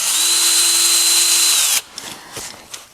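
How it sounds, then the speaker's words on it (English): Cordless drill with a 3/16 bit boring out old brake rivets on a John Deere, a loud steady whine for under two seconds that cuts off abruptly, followed by a few faint clicks and handling knocks. "use a 3/16 drill bit on your cordless drill and take the end off of the rivets"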